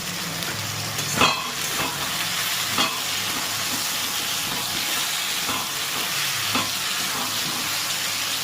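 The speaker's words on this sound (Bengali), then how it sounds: "আদাটা সবজির সঙ্গে ভেজে নেব" Vegetables frying in a pan with ginger and slit green chilies, a steady broadband sizzle with a few sharp stirring scrapes spaced through it, close and moderately loud, no talking.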